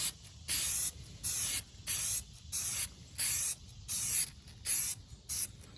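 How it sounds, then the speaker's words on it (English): Short bursts of aerosol oil spray onto a 2006 Ford Ranger air filter, hissing in a regular on-off rhythm of about a dozen squirts, close and fairly quiet. "After you're done spraying down your oil filter, or your air filter"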